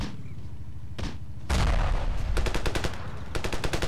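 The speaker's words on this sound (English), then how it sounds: "This gun sounds better." Gunfire from a gun in the video game Ravenfield: a few separate shots early on, then dense rapid bursts that build into loud, sustained automatic fire with distinct rhythmic cracks toward the end.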